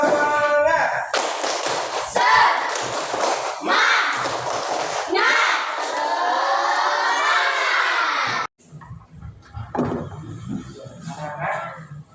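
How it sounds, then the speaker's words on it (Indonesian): Schoolchildren in a classroom doing a rhythmic spirit clap, sharp patterned claps and taps mixed with loud children's voices chanting along, followed by a shorter quieter burst of clapping and voices. "Tepuk semangat."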